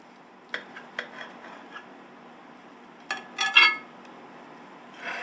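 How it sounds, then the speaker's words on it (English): Knife cutting through a molded vegan main dish of butternut squash and walnuts, with quiet clinks of utensils against a plate and a few soft scraping taps, faint under steady room hum. "And now we're going to cut the mold."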